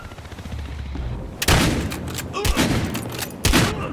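Shotgun blasts in a Battlefield Hardline multiplayer match, three sharp booming shots about a second apart over a busy background of game noise, with faint voices in the mix.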